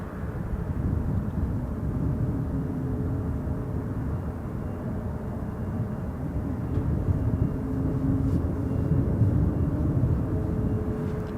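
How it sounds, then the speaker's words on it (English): An Emirates Airbus A380 departs from Toronto Pearson Airport as a steady, distant jet roar that hums low and continuous, slowly swelling slightly toward the end. "Emirates 242 headed back to Dubai on an Airbus A380."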